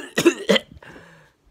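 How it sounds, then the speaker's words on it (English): Two harsh, close coughs in quick succession followed by a softer, wheezy throat sound, blamed on allergies. "did you just cough up your own heart?"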